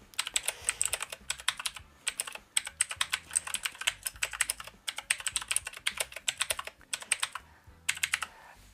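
Rapid clattery typing on a noisy Aukey KM-G6 computer keyboard, bursts of sharp clicking keystrokes separated by short pauses, close and clear with no voices.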